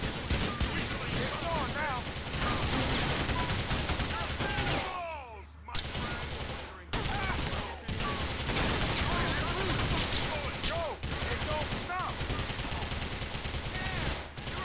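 Dense gunfire fills the scene in Grand Theft Auto IV: The Ballad of Gay Tony, with repeated loud shots and bursts nearly nonstop apart from a brief lull, while someone talks over the shooting.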